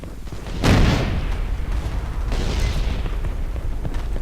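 A loud explosion blasts out in the futuristic shooter Battlefield 2142, a deep booming burst followed by a long rumbling tail and a second swell of debris and noise a couple of seconds later.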